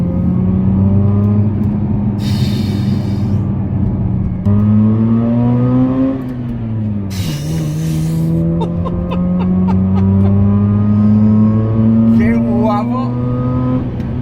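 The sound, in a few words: sports car engine revving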